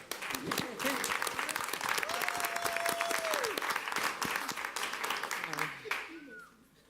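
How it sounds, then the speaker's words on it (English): A school board meeting audience applauds students from Allentown, a steady round of clapping with voices talking over it, fading out near the end. "Let's clap."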